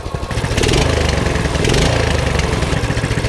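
A small engine on a restored mini bike idles close by with a steady, buzzing putter that swells slightly as it is adjusted, loud and continuous, with no voices.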